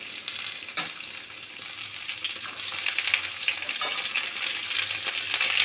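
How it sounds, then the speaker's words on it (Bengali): Sliced okra, added after potatoes, fries in hot oil with a steady crackling sizzle and occasional scraping stirs, growing slightly denser and louder toward the end. "এবার ভেন্ডিগুলো দিয়ে দেব।"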